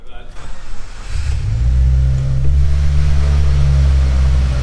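A 2015 Subaru WRX's FA20 engine cranks and catches, then settles into a loud, steady low idle, close by.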